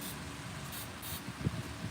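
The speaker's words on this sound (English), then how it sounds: "I'm going to go ahead and spray these." An aerosol can of cutting lube sprays onto the suspension nuts of a trailer under repair, a steady close hiss running through the whole moment with a small clank near the end.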